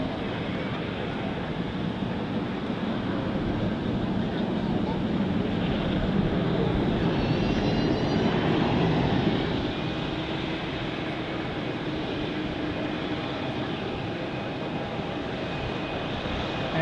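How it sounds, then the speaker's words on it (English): Singapore Airlines Boeing 777 departing on runway 34, a steady broad jet roar heard from an observation deck that swells slightly midway, with faint voices in the background. "see the Singapore Airlines 777 departing right in front of us on runway 34"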